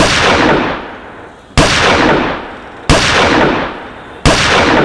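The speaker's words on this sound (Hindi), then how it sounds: "पटाखों की नहीं है, गोलियों की आवाज़ है शायद।" Four loud gunshots ring out about a second and a half apart, each a sharp crack followed by a long, rumbling echo that fades before the next.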